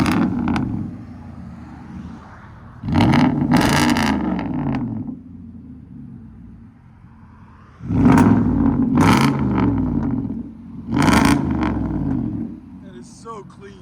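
A Nissan Titan's 5.6L V8 with an aftermarket exhaust is revved repeatedly. Three loud, close throttle blips rise and fall, separated by a steady, rumbling idle.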